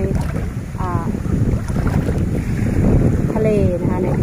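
Strong wind buffets the microphone over floodwater on a village road, a loud, rough, continuous roar. Faint voices come through briefly.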